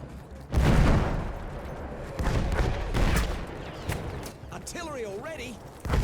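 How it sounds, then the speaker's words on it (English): Artillery shells pound a village and outlying forts in Battlefield 1, heavy booms and bursts of fire arriving in loud clusters amid battlefield noise, with voices and a rising whistle toward the end. "Artillery fire ordered to cover retreat to beach, shelling the village and outlying forts"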